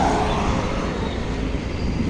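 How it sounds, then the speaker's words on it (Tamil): An auto rickshaw approaching along a road near Lakshmapuram village where roadwork is underway, a steady rumbling engine drone mixed with wind and road noise, fairly loud and continuous. "லட்சுமாபுரம் ஊர்லேருந்து ஆட்டோ வருது"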